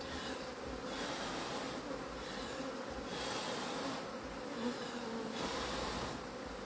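Angry honeybees buzz steadily and close during a hive split in New Zealand, a continuous drone that swells and fades slightly, with no voices.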